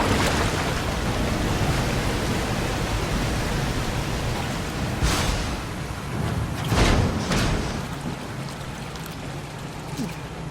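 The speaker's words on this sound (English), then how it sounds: "that's just the water draining." Water draining in the game Soma: a loud, steady rushing wash of water, broad and continuous, with a few surging swells toward the end.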